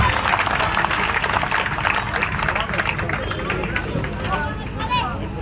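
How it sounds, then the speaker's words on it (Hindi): Audience at a Hindi poetry recital breaking into applause amid crowd murmur and voices, loud at first and thinning toward the end as talk and scattered sounds take over. "तालियां कमजोर हैं आपकी।"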